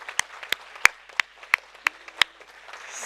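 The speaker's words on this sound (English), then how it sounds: "I think that our moderators deserve also a big applause" Sparse clapping at a conference general meeting honoring the moderators, a handful of distinct, evenly spaced claps ringing out close by over a quiet room, with no crowd roar behind them.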